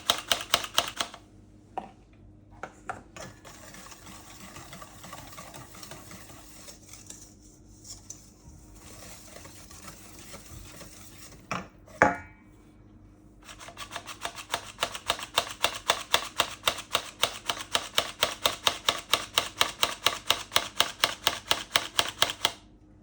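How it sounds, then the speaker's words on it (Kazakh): Flour stirred bit by bit into Viennese waffle batter, soft scraping and tapping of a utensil in a bowl at first, then a fast, even run of sharp rhythmic knocks as the whisking picks up. "Ұнды аз-аздан бөліп салып араластырамыз."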